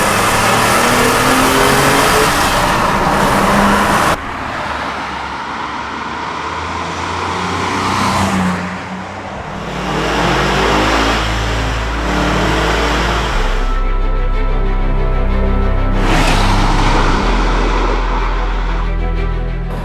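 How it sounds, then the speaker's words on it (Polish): A BMW accelerates hard in fourth gear, its engine rising loudly in pitch with a rich exhaust note and a low rumble underneath, heard close up and continuous throughout. "Mamy 4. bieg, dodajemy gazu bez sprzeciwu, ze szmerem, z lekkim rasowym dźwiękiem z układu wydechowego."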